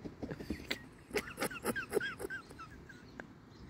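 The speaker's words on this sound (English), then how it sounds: "Puppy going for the geese." Outdoors a puppy goes after geese, giving a run of short, sharp yips and whimpery barks mixed with honking calls at moderate distance, busiest in the middle and then thinning out.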